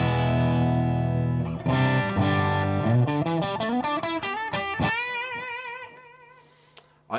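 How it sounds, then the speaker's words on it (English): A custom mahogany-body Stratocaster with Seymour Duncan YJ and Fury pickups rings through a Marshall amp in a clean tone with delay, playing a run of sustained notes and quicker picked phrases whose echoes trail off. "I have Strat, a custom Strat with a mahogany body, Seymour Duncan YJ and Fury pickups going into a Marshall"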